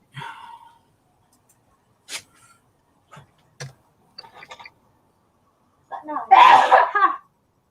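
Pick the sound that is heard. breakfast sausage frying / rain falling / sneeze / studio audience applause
sneeze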